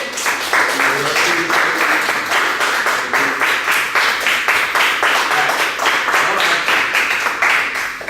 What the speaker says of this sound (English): Big round of applause for Neely